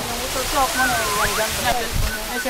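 The 60-metre Tumalog Falls in Cebu, falling in several streams, gives a steady, broad rushing roar while voices talk excitedly over it.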